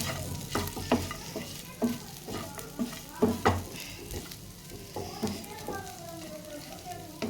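Chicken frying in a pan with curry leaves and green chilies sizzles steadily, broken by repeated clanking stirs of a spoon against the pan, close up with no talk.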